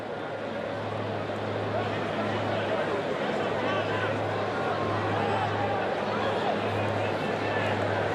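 A large football crowd at a 2012 Wellington Phoenix versus Sydney match gives off a steady, dense hubbub of distant chatter and murmuring, continuous throughout, with no standout cheers.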